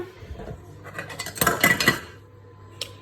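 A metal spoon scrapes and clinks against a saucepan in a few quick strokes, close and fairly loud, then fades to quiet.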